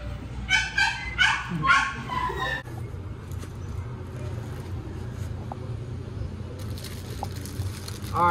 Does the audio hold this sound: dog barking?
yes